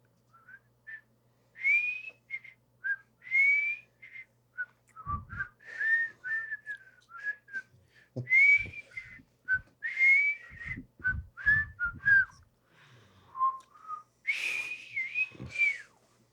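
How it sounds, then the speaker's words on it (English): A person whistling a lively melody with many short, bright phrases and brief pauses, close and clear, alone with light background handling noise. "Gonna whistle now."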